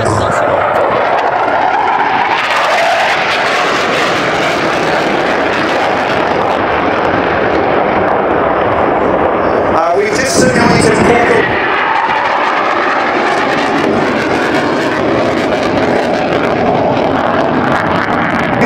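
A military jet thunders by low and loud at Rennes Airshow 2012, with a brief harsh rattling burst of 37 mm Mauser cannon fire midway, then the engine roar fading out.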